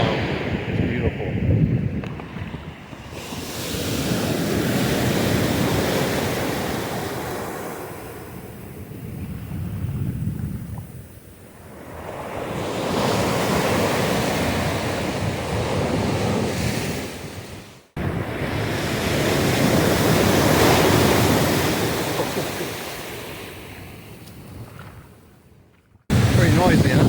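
Ocean surf rolls in on an Amelia Island beach in Florida, with waves swelling and receding in long surges under heavy, buffeting wind noise on the microphone.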